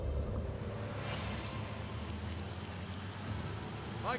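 Steady hiss of a rain spell in Divinity: Original Sin Enhanced Edition, with a gusty, windy wash, continuous and fairly soft, ending with a brief whooshing sweep.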